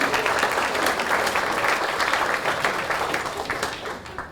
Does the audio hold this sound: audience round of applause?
yes